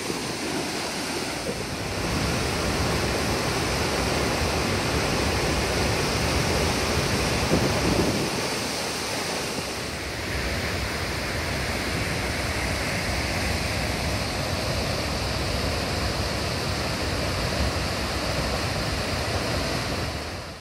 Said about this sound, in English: we've checked out the waterfall over at Lost Creek